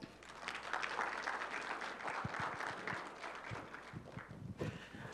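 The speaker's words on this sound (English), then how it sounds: "A warm round of applause, please, for Mr. Zane Pulumbarit." Audience applause at an investor summit, a steady round of clapping from a seated crowd after a speaker is introduced, moderately distant and sustained for several seconds before tapering slightly.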